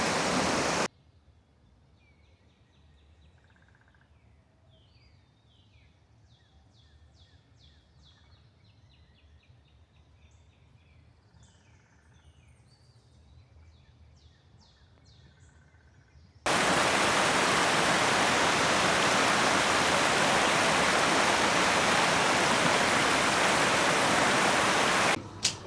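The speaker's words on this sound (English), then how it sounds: "here's Crockett Falls. There it is right there. It's a nice little peaceful waterfall" Crockett Falls, a small waterfall in David Crockett State Park, roars with loud, steady broadband rushing water. Before the roar, a long quieter stretch carries scattered birdsong over faint ambient hiss.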